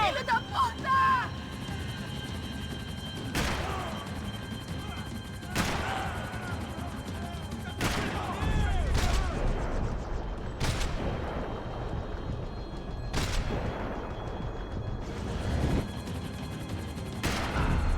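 Rapid bursts of gunfire in Max Payne 3, sharp cracks repeating every couple of seconds over a steady rumbling action backdrop, with voices shouting throughout.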